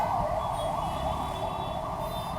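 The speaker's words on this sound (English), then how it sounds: "because there is an ambulance going on" An ambulance siren passing along a street in Bengaluru, a steady wailing tone that rises and falls in a regular cycle, loud and continuous over dense traffic rumble.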